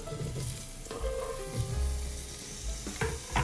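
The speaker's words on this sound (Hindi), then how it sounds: "अब इसमें मैं डाल रही हूँ मेरा पम्पकिन," Cubed pumpkin dropped into hot oil with cumin seeds crackles and sizzles steadily in a pan, with a burst of louder frying as the pieces hit the oil and stirring scrapes throughout, no talking.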